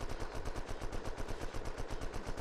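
The Grizzly gun in the Unturned video game fires in fast, steady automatic bursts, a loud, dense rattle of shots that runs without pause for the whole stretch.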